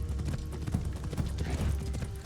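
Horse hooves clop in Assassin's Creed Shadows, a quick rhythmic trot of dull thuds close by, steady and moderately loud beneath a low game rumble.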